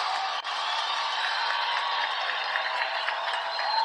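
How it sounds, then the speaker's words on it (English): A steady wash of studio audience applause, many hands clapping together at a constant level for a few seconds with no break. "studio audience, give yourselves a round of applause"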